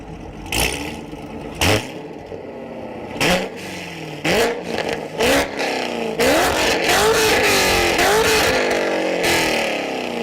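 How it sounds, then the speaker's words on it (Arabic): V8 car engine revving in a series of sharp bursts, each rising and falling in pitch, then a sustained climbing rev toward the end, loud and close with no talk. "وآخر حاجة بتكون خاصة شوية لعشاق السيارات، وهو الصوت المميز، وخصوصا صوت ال V8."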